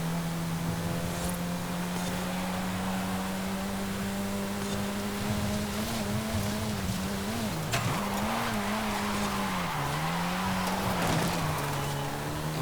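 A Saleen S1 drifting in Forza Horizon 5: a sustained engine drone with wavering pitch as the tires squeal through long slides, loud and continuous.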